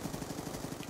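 Gunfire in a shooter video game comes as a rapid, evenly spaced string of about a dozen fairly quiet automatic shots in a single short burst.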